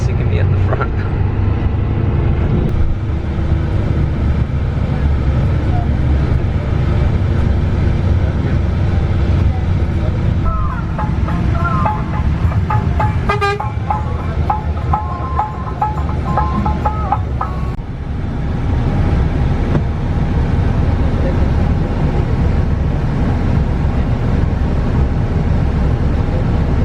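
A bus on a long road trip through Sumatra, with a loud steady engine drone and road rumble throughout, plus brief rattles and a tonal beeping partway through.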